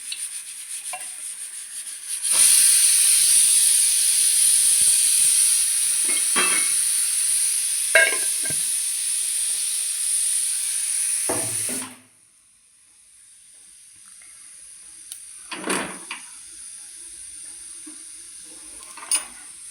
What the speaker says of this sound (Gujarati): હવે નાખીએ આપણે 1 પાવ તેલ